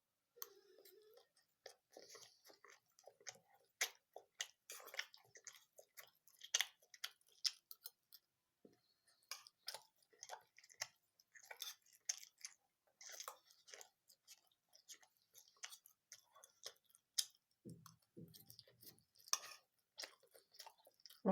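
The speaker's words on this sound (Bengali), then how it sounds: "এই যে পাস্তা খাচ্ছি।" Pasta being eaten late at night, with soft, irregular wet chewing and small mouth clicks close to the microphone and no talking.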